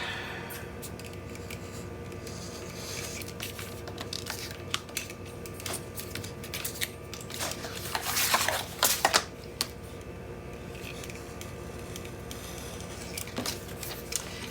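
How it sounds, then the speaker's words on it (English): A box cutter trims the corners of a landscape 8 1/2 x 6 1/2 mini album base, giving a run of close, soft scratchy cuts and taps with a brief burst of louder scraping partway through. "I am going to just use my box cutter to trim those off real quick."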